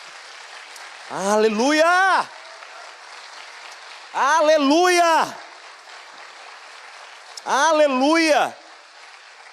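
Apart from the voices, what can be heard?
applause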